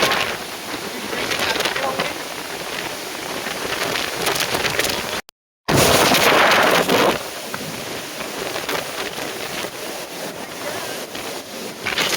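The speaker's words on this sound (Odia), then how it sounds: "ଏଇଟା ହେଲା ପବନ" Strong wind roars by the sea ahead of a cyclone, a loud, continuous broadband rush buffeting close by, with surf mixed in and someone talking over it.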